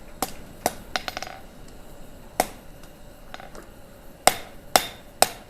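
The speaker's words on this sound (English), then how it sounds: "This is why I like a nice square face hammer." A square-face hammer strikes steel stock at a gas forge, sharp ringing blows landing irregularly, some single and some in quick pairs, with softer taps between and quiet room noise behind.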